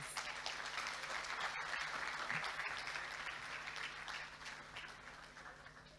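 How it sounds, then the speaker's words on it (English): Sustained applause from a crowd at a secondary school graduation ceremony, loud and steady for several seconds before easing slightly toward the end, with no voices over it. "y'all should give him a second round of applause"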